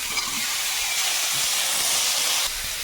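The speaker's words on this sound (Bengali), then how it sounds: "এবারে আমটা দেবো" Raw mango pieces hit hot oil with a loud, steady sizzling hiss that holds evenly for nearly three seconds, close and dense.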